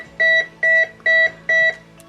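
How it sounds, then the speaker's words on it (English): Four evenly spaced electronic beeps, close and clear, sound from the ESC of an E-flite F-16 Thunderbirds 70mm EDF RC jet as a 6S battery is plugged in, each tone a short steady two-pitch chirp with brief gaps between. "6 beeps for a 6S battery."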